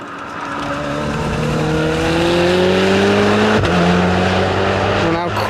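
Supercar accelerating hard around Anglesey race circuit, engine pitch climbing steadily and loud with a brief gear change, heard nearby.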